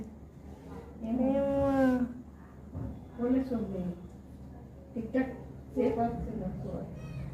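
A cat meows several times up close, loud drawn-out cries in separate bursts spaced about a second or two apart, with quieter sounds between them.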